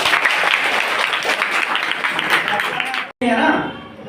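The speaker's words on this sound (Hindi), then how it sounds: "ताली बजाइए एक बार।" An audience claps together at an anti-addiction pledge event at an educational institute, a dense burst of applause for about three seconds that cuts off abruptly, then resumes more thinly with voices mixed in.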